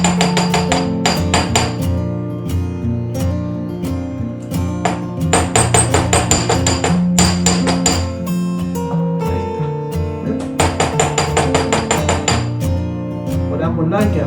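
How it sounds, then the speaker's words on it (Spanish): A metal hammer strikes the sides of stone chain links in rapid bursts of sharp, ringing metallic blows, loud and close, with short pauses between the groups. "Y con nuestro martillo golpeamos ambos lados."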